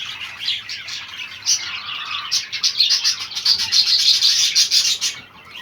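Chinese quail call in quick bursts of high, thin chirps and trills, close and fairly loud, overlapping and growing busier before trailing off.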